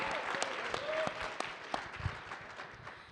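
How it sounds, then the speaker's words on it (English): Moderate applause from an audience at a startup venture competition after a founder's pitch, scattered claps forming a loose, uneven patter that tapers off toward the end. "Ladies and gentlemen, a round of applause"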